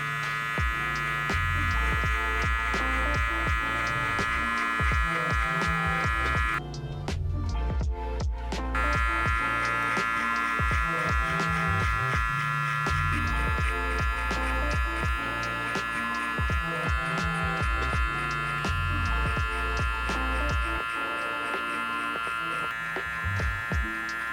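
Electric hair clippers with the lever open buzz steadily through a burst fade cut, a close, continuous hum with a brief dip partway through, no talking.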